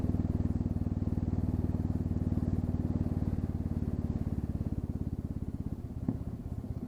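A Royal Enfield Classic 350 idles with its muffler tip removed, giving a steady, close, raw single-cylinder thump with a brief blip near the end and no one talking.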